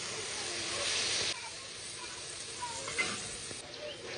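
Ground spice paste sizzling in hot oil in a pan for Bengali doi katla, a steady close hiss that swells briefly then settles into a softer continuous sizzle.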